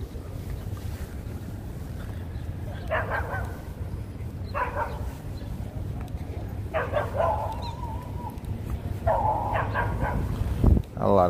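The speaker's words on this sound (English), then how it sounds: "wow. A lot of dogs." Several dogs bark in short clustered bursts at a city dog run on a cold morning in New York, heard at moderate distance beneath steady wind noise buffeting the microphone.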